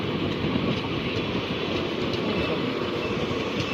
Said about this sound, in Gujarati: લોકલ પણ ઉપડી ગઈ છે અને ઇન્ટરસિટી પણ બંને ટ્રેનો વહી ગઈ છે એકસાથે